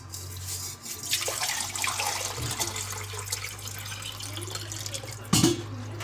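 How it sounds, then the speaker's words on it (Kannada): Water pours steadily from a jug into an empty pan (banali) for cooking ragi balls, a continuous splashing rush lasting several seconds at close range, with a low steady hum underneath and a brief louder clatter near the end. "ಒಂದು ಚೊಂಬು ನೀರು ಬಿಡ್ತಾಯಿದ್ದೀನಿ ನೋಡಿ"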